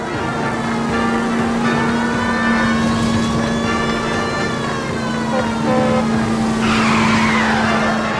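Tires squealing on a car during a police chase after a stolen green Kaiser Frazer in the 1940s detective game LA Noire. One loud, continuous skid screech rides over engine roar and a steady droning tone for the whole stretch.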